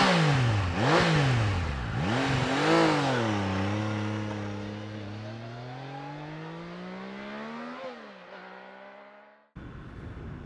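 Triumph Daytona 660 motorcycle engine revving hard while riding, rising through the gears with sharp pitch climbs, then a long steady pull and a final drop as the throttle eases, loud and close.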